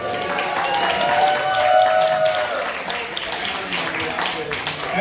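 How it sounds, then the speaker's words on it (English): Applause from the audience at a live music venue, the Live Oak Listening Room in Nacogdoches, Texas, a moderate steady clapping from a modest crowd with faint voices and a brief tonal squeal mixed in. "So let's give a round of applause."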